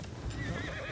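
A horse whinnies in the Ghost of Yotei video game, a short bright neigh over a low rumbling game background with no speech.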